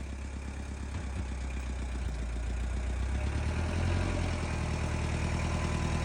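A Kubota tractor engine runs steadily at close range with a heavy low rumble and constant vibration while the tractor drives with its bucket, and the drone holds at an even loudness throughout.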